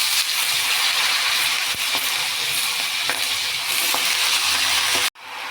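Malabar spinach and green chillies are stir-fried in a pan, giving a loud, close, steady sizzle with intermittent stirring clacks, then a sudden cut to a quieter hiss near the end.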